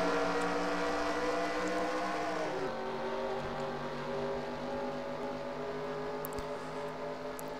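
ARCA race cars roaring around Pocono in a racing video game, a steady droning engine pack with a pitch drop partway through, moderately loud and continuous, no voices.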